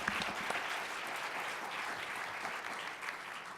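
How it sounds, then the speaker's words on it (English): An audience claps for panelists at an education panel discussion, a dense, even round of applause that holds steady for a few seconds. "can we just give our panelists a round of applause for going through that?"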